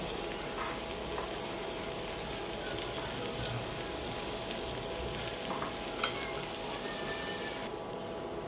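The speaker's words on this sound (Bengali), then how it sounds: "আমার মশলাটা ভাজা ভাজা হয়ে আসছে" Ginger garlic paste and turmeric fry in a pan, a soft, steady, low-level sizzle with a faint hum and an occasional light clink of stirring, heard close and without speech.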